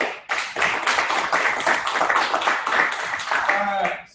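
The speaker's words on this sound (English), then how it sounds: "Give this guy an applause real quick" Applause from a group of attendees at a morning sales meeting, a steady patter of clapping lasting several seconds, with voices talking and cheering over it before it tapers off.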